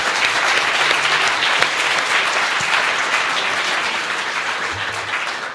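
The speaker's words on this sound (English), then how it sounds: "So let's give a round of applause to all the sponsors who helped make this possible." Sustained audience applause for event sponsors at a boardroom gathering, dense and steady clapping filling the room throughout, tapering slightly toward the end with no voices over it.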